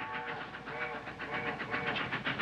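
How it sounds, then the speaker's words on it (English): A passing train rumbles with a rhythmic clatter of wheels over track joints, steady and moderately loud, with a tonal whistle-like hum running underneath. "It's Grandpa's train. It's taking him home."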